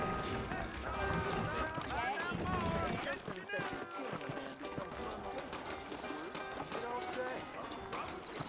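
Horse hooves clip-clop in Red Dead Redemption, a steady rhythmic beat from a nearby mount under in-game character dialogue, with music and faint bird calls in the background.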